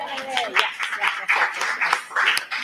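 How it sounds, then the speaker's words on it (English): A small audience gives a round of applause after a live song performance, a patter of clapping with a voice speaking over it. "Make sure to give yourselves a nice round of applause"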